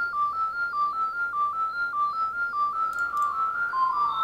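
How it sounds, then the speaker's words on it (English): A synth line run through an Erica Fusion delay with pitch-shifted repeats plays a steady alternating two-note pattern, then thickens into a shimmering, bright smear near the end, clean and with no voices. "that's the fusion delay, and then we get a bit of sparkle"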